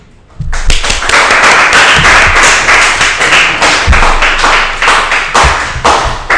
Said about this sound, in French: C'est à ce moment-là que vous devez applaudir.